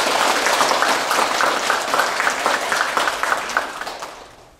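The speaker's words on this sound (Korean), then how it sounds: "불자 여러분들께서는 모두 큰 박수로 스님을 환영해 주시기 바랍니다" A hall full of Buddhist worshippers breaks into sustained applause to welcome a monk at a Wednesday dharma service, dense clapping that holds steady for several seconds and then tapers off.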